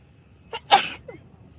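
A single sharp sneeze, close and clear, with a short breathy intake just before it and quiet afterward, during an early-morning planespotting livestream at Faro Airport.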